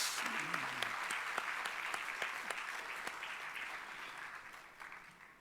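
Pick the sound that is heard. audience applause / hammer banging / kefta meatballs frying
audience applause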